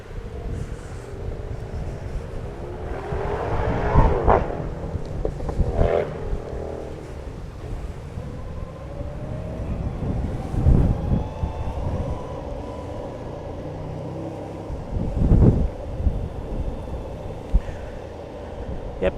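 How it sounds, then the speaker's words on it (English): Strong wind buffeting outdoors near trees, heard as rough, uneven gusts and rumbling noise with several louder thumping surges, and a faint hum of traffic or an engine underneath. "Yep, everything's so windy now."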